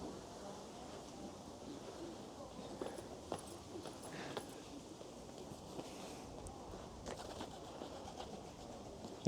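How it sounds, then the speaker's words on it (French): Pigeons coo faintly in a park in Qingdao, China, set against a quiet outdoor background with scattered soft footsteps and small knocks, and no voices. "Ils t'ont manqué les pigeons? Comme à Paris là?"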